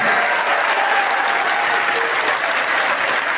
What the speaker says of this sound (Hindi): जोरदार तालियों से इस 3 दिवस की चर्चा का स्वागत करिए आप सभी गड़गड़ाहट के साथ।